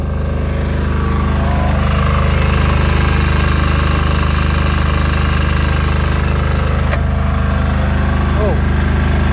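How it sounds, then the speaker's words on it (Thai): A single-cylinder diesel generator with a muffler running steadily nearby, a loud rhythmic chugging idle that holds even throughout, with faint voices in the background. "ตัวนี้มันใช้เครื่องยนต์ดีเซล"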